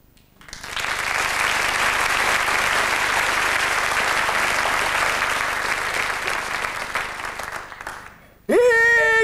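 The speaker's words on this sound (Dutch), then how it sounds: "Dames en heren, maak u hartelijk een warm applaus voor Groot Oog!" A theatre audience at a stage show breaks into loud, dense applause that holds steady for about eight seconds before dying away, followed by a voice speaking.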